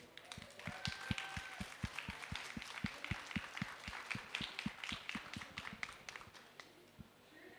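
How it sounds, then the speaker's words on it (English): Audience applause welcoming a speaker to a talk on protecting and restoring nature: steady, fairly sparse clapping from a modest crowd, slightly distant, continuing for several seconds before tapering off. "I want to give her a very warm applause"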